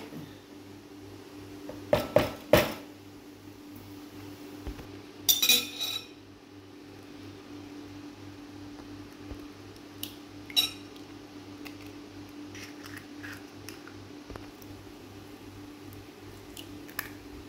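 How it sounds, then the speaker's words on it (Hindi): Two eggs crack into a bowl for a sweet paratha batter: a few sharp taps and clinks close by, then a brief wet squish and some scattered small clicks against a quiet background. "ये 2 अंडे हमने इसके अंदर डाल लिए हैं।"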